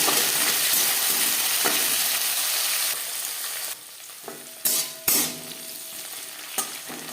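Green chillies and flat beans fry in hot oil for a Bengali khesari greens dish, a steady close sizzle with a few sharp spattering pops and stirring knocks, no talking.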